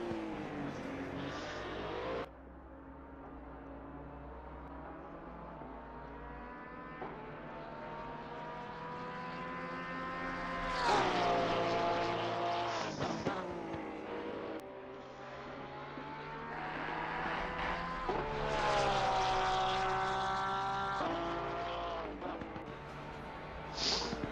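GT race cars at full throttle on the Imola circuit, engines howling through long rising gear pulls and sharp downshifts, several cars passing close in succession with loud surges and fades.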